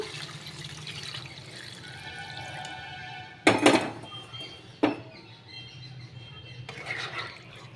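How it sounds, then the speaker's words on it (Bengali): Water is poured into a pan of frying spices for a hilsa fish curry with potato and eggplant. It lands in two sharp splashing bursts, and the sizzle hisses and bubbles between them and after. "এবার আমি একটু জল দেব, একটু জল দিয়ে দিলাম।"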